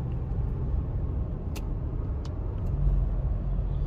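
Toyota Hilux GRS rolling on cruise control in traffic, a steady low engine and road rumble from inside the cab with a few faint clicks, no talking.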